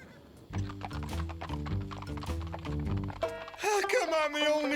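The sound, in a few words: cartoon horses neighing and hooves clip-clopping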